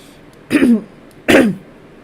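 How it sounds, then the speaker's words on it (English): Two gruff throat clearings, close and fairly loud, separated by a brief pause. "I'm clearing my throat."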